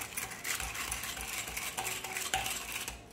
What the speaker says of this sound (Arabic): فهسه هيونه نحط البيض ويا الشكر بالمطرقة مال اللبن.